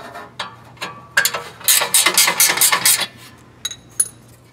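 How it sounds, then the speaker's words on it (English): Two 10 mm screws are removed from a car heat shield on a Honda, giving bursts of rapid ratchet clicking close by, with a few separate metallic ticks and clinks before and after. "we're just gonna take these two 10 millimeter screws off and bend the shield back."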